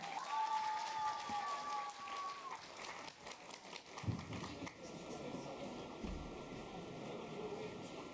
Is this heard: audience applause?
yes